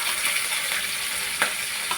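Kanda poha frying in oil with green chilies, coriander and spices, stirred in the pan: a steady close sizzle with a few soft scraping strokes of the spoon.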